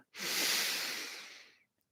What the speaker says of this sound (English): I invite you to take in a deep breath